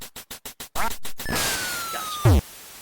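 Duck Hunt video game audio: a run of short electronic beeps, then a sustained tone and a loud, synthetic duck quack at the end, with no talk.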